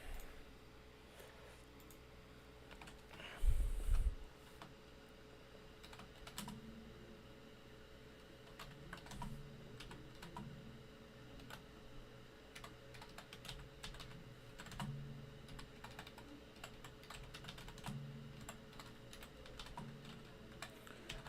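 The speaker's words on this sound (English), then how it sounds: "I hate how loud this keyboard is." Computer keyboard typing runs steadily through the whole stretch as a rapid train of light clicks, close and fairly quiet, with a background hum underneath and no speech.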